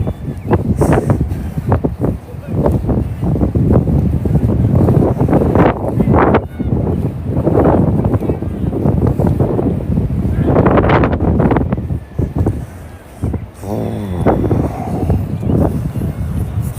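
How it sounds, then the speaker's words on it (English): Strong wind buffets the microphone continuously at an outdoor cricket match, with loud rumbling gusts rising and falling throughout and occasional voices faintly audible underneath. "Boy, this wind every time it blows"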